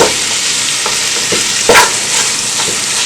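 Steady sizzling of lamb coconut curry frying in a pan, with a few scraping stirs of the spoon standing out, close and continuous with no talking.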